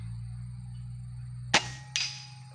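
An upgraded Ergan air rifle fires during an accuracy test, a single sharp crack followed by a second metallic clang a moment later, heard over a steady low hum.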